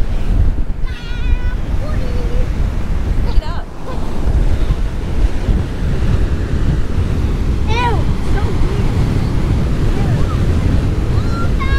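Huge storm waves pound the shore at Ocean City, Maryland, during Tropical Storm Ophelia: a loud, continuous roar of surf with heavy wind buffeting the microphone throughout.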